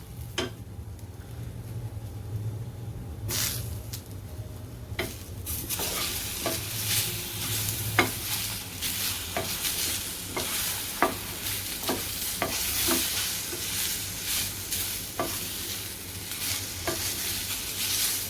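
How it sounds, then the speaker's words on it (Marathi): Grated coconut stirred and sautéed in a pan for a drumstick and potato curry, with a loud, continuous sizzle broken by regular scrapes of the spoon. "परतून घ्यायचं आहे चांगलं आता खोबरं थोडं परतलंय"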